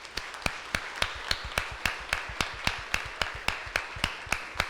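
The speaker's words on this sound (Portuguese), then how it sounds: "Vamos dar um aplauso ao nosso Deus?" A church congregation clapping in a steady, evenly spaced rhythm, sharp distinct claps repeating about every third of a second, moderately quiet with no talking over it.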